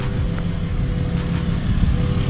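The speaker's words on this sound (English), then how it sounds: "truck is really loud" A Ram 2500 pickup truck rumbles with a loud, steady low engine drone, close by and continuous, with no talking.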